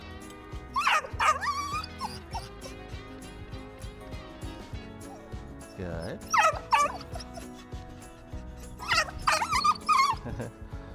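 A dog whimpers and yips in short bursts, then gives a few barks, heard up close in three clusters over steady background noise while a person speaks softly between them.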